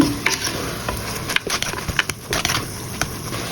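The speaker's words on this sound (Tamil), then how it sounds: "இது நல்லா மிக்ஸ் பண்ணி போட்டு நல்லா வதங்க விடுவோம்" Green chillies and curry leaves sauté in a pan for a Sri Lankan oyster mushroom curry, with a crackling sizzle under sharp irregular scrapes and knocks of a spoon stirring close by.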